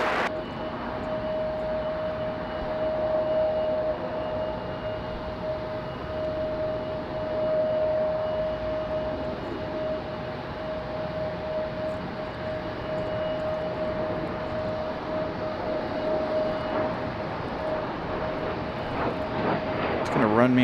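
A FedEx Boeing 767 jet takes off at night, a sustained engine roar with a steady whine tone holding throughout, moderately distant, with voices talking intermittently underneath.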